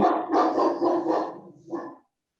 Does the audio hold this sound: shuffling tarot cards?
no